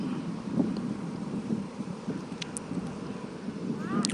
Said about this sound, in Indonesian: Untuk kondisi angin sekarang semakin kencang mengarah ke sebelah selatan.